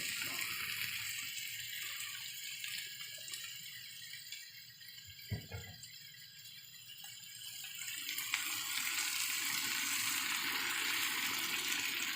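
Broth poured into a pan of sautéing lentils and eggplant, a liquid gush and sizzle over steady hissing, with a clatter midway and the sizzle rising again afterward.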